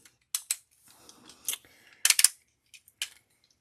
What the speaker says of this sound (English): I'm just going to cut out a piece.